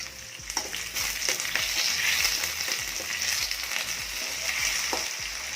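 Garlic and curry leaves sizzle and crackle steadily in hot oil for a brinjal curry, with occasional stirring scrapes and small pops throughout, close and continuous.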